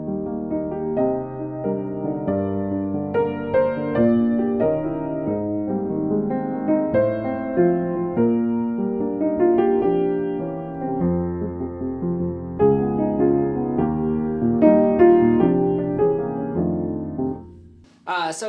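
Solo piano playing a song arranged in 7/4 time, one bar of four joined to one bar of three, with full chords and a flowing melody that end in a brief pause and a sharp noise.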